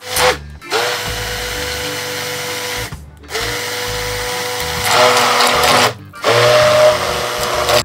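A kitchen mixer grinder whirs loudly while finely blending a milk mixture for instant kharwas, running in three strong high-pitched bursts separated by brief stops.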